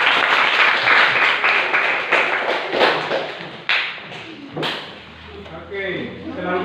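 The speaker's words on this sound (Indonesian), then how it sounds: "Mari kita beri aplaus dong untuk kelompok 1." An audience breaks into loud, dense applause for a group, with sharp individual claps standing out before the clapping thins and fades to scattered claps and quiet murmuring.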